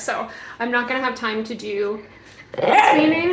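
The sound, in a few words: dog barking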